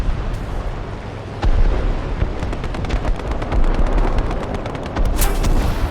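Tank battle in War Thunder with a Panther F, heavy cannon blasts and rapid gunfire booming over a constant loud rumble of combat, with a dense burst of repeated shots midway and a sharp blast near the end.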